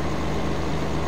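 Steady low rumble of a tractor engine in Farming Simulator 15, a continuous even drone with no talk over it.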